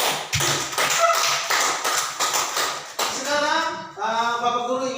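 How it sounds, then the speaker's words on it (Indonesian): A primary school class claps hands together in a classroom, a quick burst of fairly loud, rhythmic patterned clapping that gives way to children's voices chanting or singing toward the end. "Tepuk tangan dulu."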